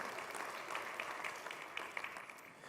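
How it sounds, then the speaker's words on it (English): Faint but steady clapping from a congregation at a synagogue sanctuary dedication, honoring the renovation committee, with scattered sharper claps in the wash. "Could we please get a round of applause for our Sanctuary Renovation Committee?"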